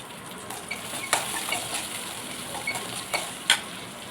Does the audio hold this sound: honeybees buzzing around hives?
no